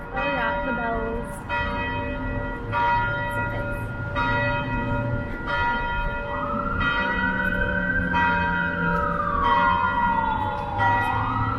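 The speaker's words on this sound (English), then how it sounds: "Why is the bell going so crazy?" A church bell in downtown Toronto at rush hour strikes over and over at an even pace, loud and ringing, while a siren rises and falls in the distance partway through.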